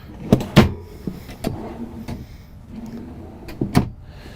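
A large storage drawer under the bed of a 2013 Itasca Reyo 25T RV is opened. It makes a few sharp knocks and clunks, then a soft sliding rumble and a final pair of thumps, heard close by and alone.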